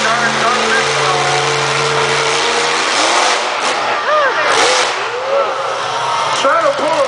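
Supercharged 140-cubic-inch monster truck engine at a freestyle show, revving loud and close with rising and falling pitch sweeps over a steady rumble, crowd and announcer voices mixed underneath.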